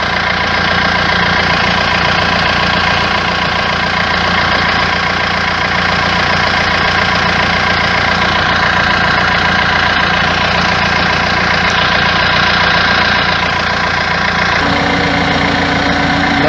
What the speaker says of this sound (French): j'ai le ventilateur qui s'est mis en marche en vitesse supérieure